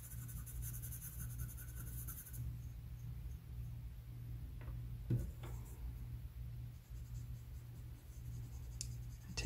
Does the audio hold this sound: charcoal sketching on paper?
yes